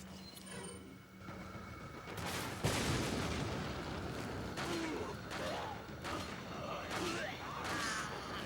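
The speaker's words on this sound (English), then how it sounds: "You just have to use the rocket launcher." Rocket launcher fire in Resident Evil 4 on New Game Plus, used against Ganados, with booming blasts and mechanical clanks over a dense, continuous din of game noise and creaking effects.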